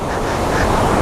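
Aliwagwag Falls roars as a steady, dense wash of rushing water, loud and close, with no break in the noise.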